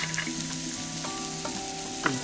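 Soup simmers and sizzles faintly in a pot, with a steady soft frying hiss and a few light clinks or stirring touches.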